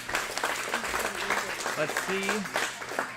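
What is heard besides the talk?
crowd cheering and applauding at a team championship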